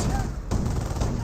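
Flakvierling anti-aircraft gun firing in Company of Heroes, a dense run of rapid gunfire bursts in a busy battle mix, with a sharp burst near the middle and steady shots throughout.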